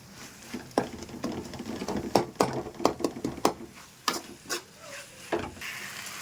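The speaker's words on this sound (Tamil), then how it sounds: "ஸோ வெங்காயம் தக்காளி மசாலா உப்பு எல்லாம் போட்டிருக்கோம். நம்ம எல்லாம் நல்லா இப்போ வதங்கிட்டுருக்கு." Onion, tomato, masala and salt sauté in a pan, heard as a faint sizzle under repeated scraping and tapping strokes of a spoon against the pan at an uneven pace.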